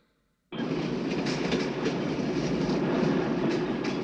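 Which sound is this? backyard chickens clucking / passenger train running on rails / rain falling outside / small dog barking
passenger train running on rails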